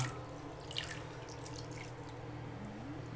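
Water running and dripping into a sink or tub during a baby's first bath, a steady soft trickle with a few brighter drip splashes, fairly close, alone without talk.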